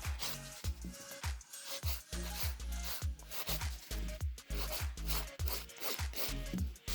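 Rhythmic rasping of a nail file working over gel nails during a salon infill, quick repeated strokes close and fairly loud, with a steady back-and-forth scraping pattern and no talking.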